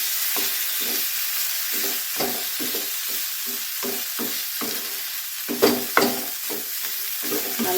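A spoon works through a sweet potato mixture with cardamom and cumin in a hot pan, a steady sizzle under regular scraping strokes, with a couple of louder knocks near the end.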